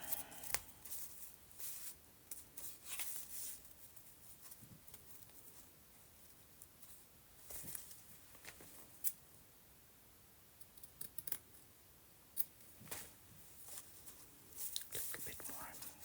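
Scissors cut paper for a pink rose journal in a series of faint, quiet snips and rustles scattered across the stretch, with soft whispered talk now and then.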